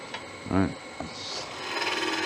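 Smoothing cuts on a bog oak angel being turned on a lathe give short, light scraping and rubbing sounds against a faint tonal whine, with a brief voice near the start.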